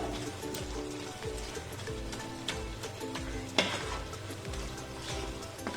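Biryani with a little oil is stirred in a pot, giving a low continuous sizzle with repeated scraping strokes and one sharp utensil knock midway.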